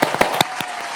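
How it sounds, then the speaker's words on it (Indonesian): A few sharp hand claps from a small group in a podcast studio, about four quick claps in roughly a second, close and crisp with no voices. "Tepuk tangan dulu nih guys buat Wawa."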